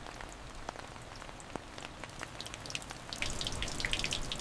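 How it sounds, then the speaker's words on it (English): Rain falls after midnight in an old Saigon alley, a steady soft patter with scattered sharper drips and splashes that grow denser and brighter toward the end. It sounds fairly near but quiet, and no one speaks. "After midnight, the rain became the only thing still awake."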